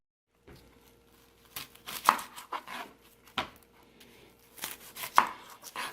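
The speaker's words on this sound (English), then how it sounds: "Let's chop some onions." Onions are chopped with a knife on a board in a home kitchen, about half a dozen sharp, uneven knocks close by, separated by quiet pauses, with no talking.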